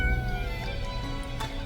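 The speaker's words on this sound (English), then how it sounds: "Meow the cat replies absent-mindedly." A cat meows in the video game Death and Taxes, a short close mew rising over a faint background music bed.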